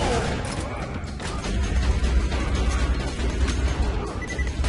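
Dense, continuous gunfire from a video game boss battle in Borderlands 2, rapid shots and bursts piling into a loud, unbroken barrage that runs the whole stretch with a voice briefly heard beneath it.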